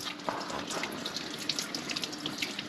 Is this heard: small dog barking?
no